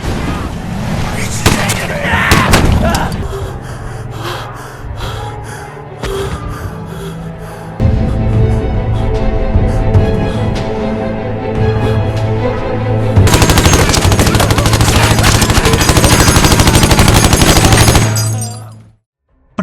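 Heavy gunfire and bursts of shooting between South Korean soldiers in a war film, loud sustained volleys and sharp cracks layered over a dramatic score, with voices and gasps mixed in.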